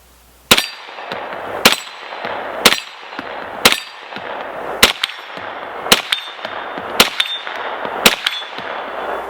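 Kel-Tec Sub-2000 9mm carbine fired at a 50-yard steel target, with eight sharp shots spaced about a second apart, each followed by a ringing metallic clang from the distant plate.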